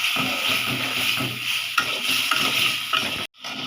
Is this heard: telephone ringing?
no